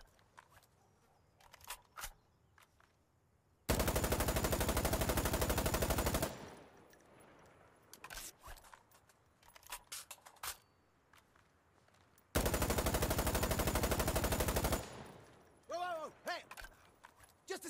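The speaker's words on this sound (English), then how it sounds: "I need to reload!" Mechanical clicks and handling sounds of assault rifles being reloaded in the video game Insurgency: Sandstorm, set between two long, loud bursts of automatic gunfire, with faint voices in the background.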